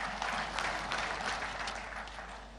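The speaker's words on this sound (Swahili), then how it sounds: "tumpe makofi ya nguvu kwa Kigali kuwa mji safi sana" Audience applause at a Nile Basin Day 2022 ceremony: dense, steady clapping from a crowd that fills the whole stretch and fades slightly toward the end.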